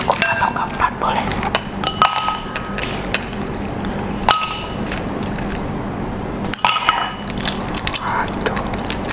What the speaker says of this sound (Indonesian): Pertama-tama kita ambil gelas, lalu masukkan es batu.